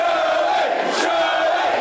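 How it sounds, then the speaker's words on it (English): A loud Anzac Day crowd with beers flowing raises a sustained, close cheer of many voices, with a brief surge of shouting near the middle. "As the beers flowed, so did the cheers, and this crowd knew what they wanted."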